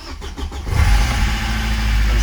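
A car engine cranks and catches after the car has sat unused for weeks, then settles into a loud, steady low rumble close by.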